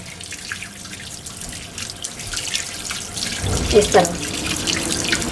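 Water runs from a kitchen tap as raw meat pieces are washed under the open flow, a steady splashing that grows louder and fuller midway, with someone briefly talking over it.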